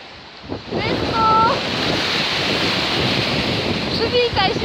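Sea waves and wind at the seaside, a loud, continuous rushing roar with buffeting wind on the microphone and brief voice fragments near the start and end.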